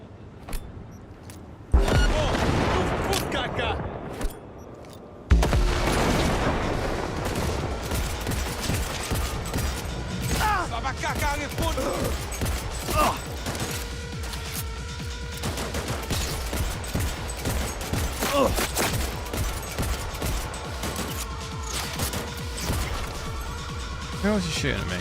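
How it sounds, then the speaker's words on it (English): Sustained gunfire in Cyberpunk 2077: after a short quiet opening, dense bursts of shots and crashes begin near two and five seconds and keep going loud and busy to the end, with clattering mechanical hits layered through the firefight. "Who else is shooting at me?"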